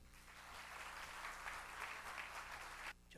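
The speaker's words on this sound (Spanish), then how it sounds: "a quien recibimos con un fuerte aplauso" An audience at a commemorative gathering applauds a guest speaker, a faint, distant but continuous wash of many hands clapping that runs for about three seconds and then cuts off abruptly.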